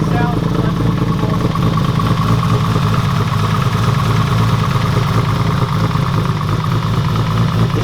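A Nissan RB28DET RB26 stroker engine with a single turbo idles close by with a choppy, uneven lope, a steady loud rumble running through the whole stretch with no pauses.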